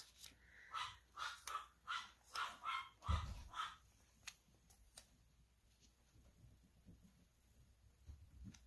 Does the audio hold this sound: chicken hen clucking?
no